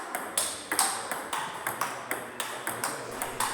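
A table tennis ball is hit back and forth in a steady rally, each crisp ping and bounce evenly spaced and ringing in a hall at a club session.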